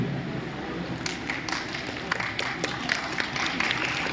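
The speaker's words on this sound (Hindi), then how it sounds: "तालियों की गड़गड़ाहट थोड़ी कम है, जोर से करिए।" An audience applauds at a 2024 divisional youth parliament competition in Koni, Bilaspur, Chhattisgarh. The clapping starts about a second in and builds into a moderate, steady patter of many hands over room noise.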